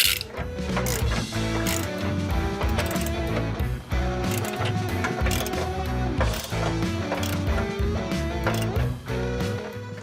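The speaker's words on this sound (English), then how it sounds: "Now we're going to fully tighten these 2 24 millimeter nuts" A ratchet tightens two 24 mm nuts on a retractable bed step bracket of a 2021–2026 truck, giving a steady run of mechanical clicking across the clip with a dense, continuous background.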